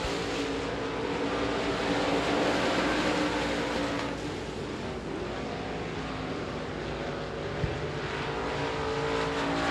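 Modified race cars roar around Devils Bowl Speedway in a USA Limited Modifieds race on the final lap, a loud, steady wall of engine noise with a pack running close together and no let-up.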